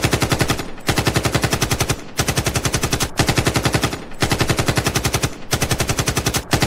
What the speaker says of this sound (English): I got the AK-47 to destroy those movies.